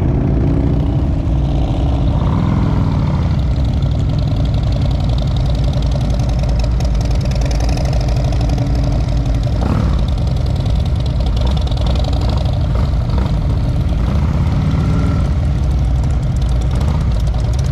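Motorcycle engines idle together before a group biker ride, a loud steady low rumble with uneven throbbing and a few revs rising and falling, continuous throughout.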